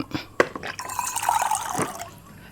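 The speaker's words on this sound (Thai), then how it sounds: "ผมก็จะมาผสมน้ำร้อน" Hot water is poured into a container and mixed, giving a close liquid fill and swish with a few brief knocks at the start and no speech.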